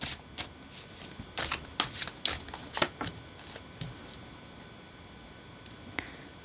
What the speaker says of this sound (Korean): 일단 여러분들의 현재 상황에 대해서 한번 간단하게 카드들을 뽑아보도록 할게요